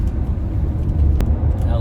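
Heavy front-wheel-drive Acura CL Type S with manual gearbox lapping a race track, a steady low engine and road drone from inside the car with someone talking over it.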